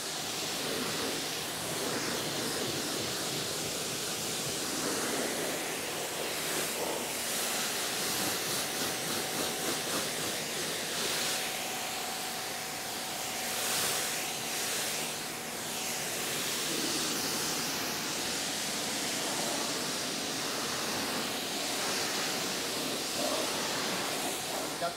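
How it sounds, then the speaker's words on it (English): Water spray rinses down a Tesla Model S Plaid, a steady broad hiss of hose or pressure water on car paint that runs continuously and fairly loud with small shifts in intensity. "let's get it rinsed down"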